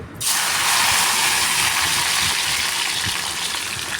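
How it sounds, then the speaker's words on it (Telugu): Okra pieces fry in a pan of oil with a steady, loud broadband sizzle that sets in almost at once and holds evenly to the end. "బెండకాయ ముక్కలు కూడా ఈ ఆయిల్లో వేసేసి వేపేసుకున్నాము"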